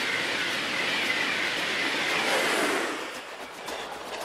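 Brazilian train running on the railway: a loud, steady rushing roar of wheels and motion, broad and continuous, easing slightly toward the end.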